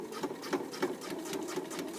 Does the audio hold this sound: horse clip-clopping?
no